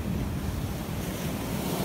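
Ocean waves wash steadily onto the beach at Montauk, a loud, continuous surf roar mixed with wind buffeting the microphone, with no one talking.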